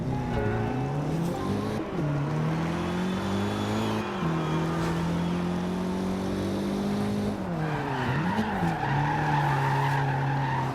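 Audi race car in Forza Horizon 2 with a loud, steady engine drone that rises and falls through gear shifts, tires skidding and squealing throughout the run.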